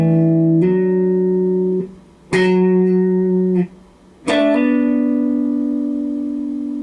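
An electric guitar plays a slow phrase from a song, three sustained, separately struck notes or chords, each picked cleanly and left ringing for over a second, with short gaps between, alone and close.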